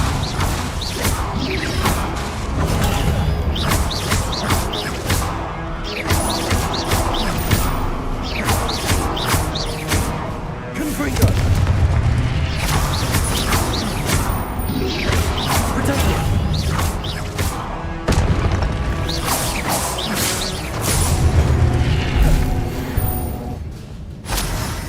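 Repeated Confringo blasting-spell explosions in the Hogwarts Legacy game crash and whoosh through a busy, sustained combat mix, with heavy impacts and swishes recurring throughout and no clear gaps.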